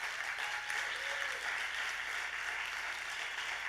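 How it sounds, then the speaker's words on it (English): Audience applauding at a Parallel 18 startup demo day in Puerto Rico, steady sustained clapping from a crowd heard at a distance, fairly quiet. "Round of applause, please"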